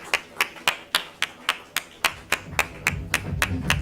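A lone person clapping at a slow even pace during a felicitation at an HR session, about fourteen crisp claps, close and clear, with faint room murmur growing underneath toward the end.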